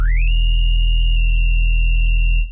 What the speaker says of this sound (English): let's just say we're going to use just some basic distortion like this